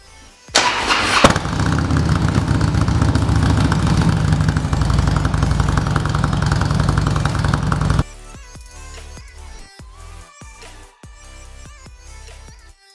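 A Harley-Davidson motorcycle engine, a 2007 Electra Glide or 2011 model, cranks and fires, then runs loud and steady for several seconds before dropping to a quieter idle with intermittent clicks and knocks.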